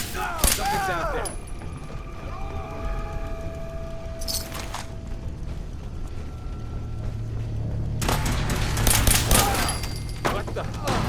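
Gunfire rings out in Fallout 4, a cluster of sharp shots early on and a heavier, sustained burst of firing near the end, with voices speaking over the game sounds.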